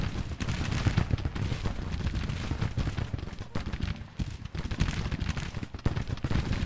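Rifle volleys and artillery booms from a Grand Tactician: The Civil War battle, with dense, continuous gunfire crackling and rumbling throughout, loud and sustained with frequent sharp reports.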